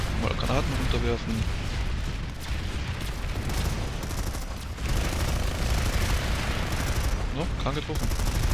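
Heavy booming blasts and rattling gunfire in a chaotic Planetside 2 battle, with grenade explosions among the loud, sustained din, while someone speaks briefly in between.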